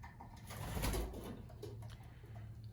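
Pigeons in a breeding loft giving soft, low cooing calls over a muffled background hum, with a brief fuller swell near the start, close by and with no talking.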